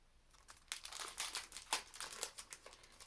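Decorative paper sheets in their plastic packaging crinkle and crackle close up in a busy run of rustles, with no talking.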